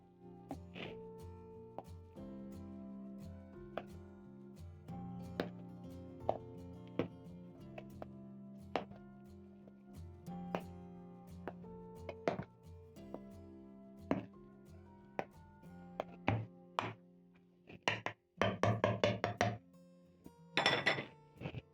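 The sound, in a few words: mashing potatoes and pumpkin puree in a pot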